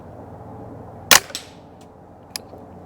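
A Ruger 10/22 rifle fitted with an 18-inch EABCO accuracy barrel fires at a target: one sharp, loud crack with a quick trailing echo, then a softer second report a moment later over a quiet outdoor background.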